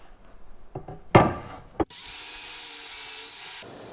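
A power tool cuts through wood to a 10-inch mark for a wall-mounted guitar holder, heard as a loud steady whine for about two seconds after brief knocks and handling noises.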